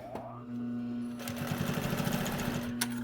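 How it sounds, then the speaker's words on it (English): A sewing machine runs close up, stitching over the edge of a fabric binding, starting after a short pause with a quick, rapid needle rhythm over a steady motor hum, and a brief click near the end. "I'm going to stitch slightly over onto the edge."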